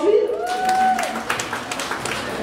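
An audience at a Kikuyu comedy show applauds, scattered claps building into a loose, moderate patter after a brief tonal sound at the start.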